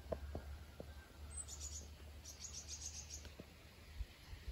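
A cricket chirps outdoors in faint, rapid high-pitched pulses, first briefly and then in a longer string of bursts. A few soft clicks and a low rumble sit in the quiet background.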